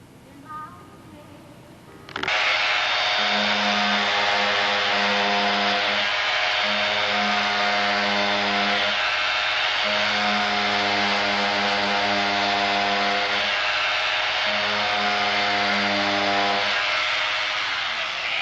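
A loud power tool whines steadily after a short quiet start, with repeated grinding passes as a blade shaves high spots along a wooden edge.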